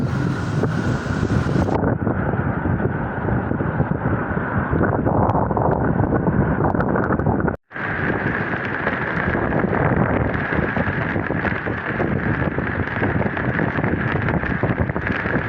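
Strong wind roars continuously across the microphone, a dense, blustery rush with a brief dropout midway, over a steady low rumble of a boat on open water, during wind and rain on a shrimp-fishing trip.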